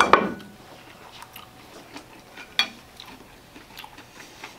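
Someone bites into glazed chicken with crunchy pepper, giving one sharp crunch at the start and then quiet, intermittent chewing with a few soft clicks, close up and without talk.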